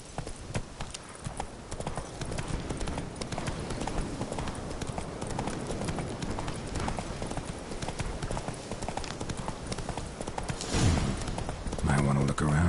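Roach the horse, in a video game, gallops with continuous rapid hoofbeats under game sounds. Near the end the pace shifts and there is a brief louder burst.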